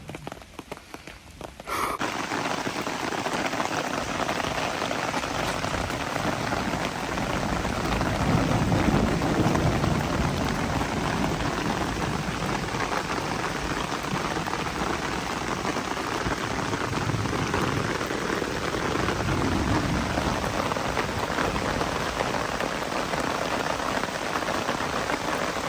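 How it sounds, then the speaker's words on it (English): Heavy rain drumming on a cheap Temu camping tent during a thunderstorm, heard from inside: a loud, dense, continuous patter after a brief quieter start, with low thunder rumbling beneath and no talk. "It's raining in the Teemu tent."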